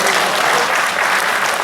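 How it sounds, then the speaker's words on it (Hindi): A theatre audience at a Hindi comedy poetry recital at Kala Mandir in Bhilai breaks into loud, dense applause that sounds close and continuous throughout. "और अब आपकी तालियां उठेंगी"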